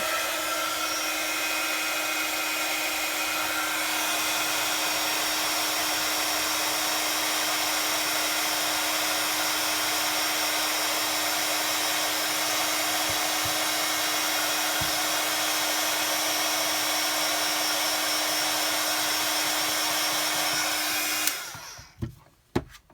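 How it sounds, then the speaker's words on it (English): A heat embossing tool for card making blows hot air in a loud, steady roar that runs unbroken for about twenty seconds, then cuts off abruptly, leaving a few faint clicks and handling noises. "So I'm just going to get my heat tool. If you've got me on sound, turn me down because this will blare out for a second."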